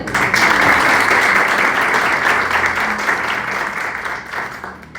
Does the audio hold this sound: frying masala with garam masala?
no